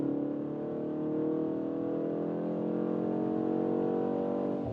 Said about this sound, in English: So we can accelerate out then.